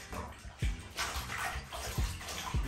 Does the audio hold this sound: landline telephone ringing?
no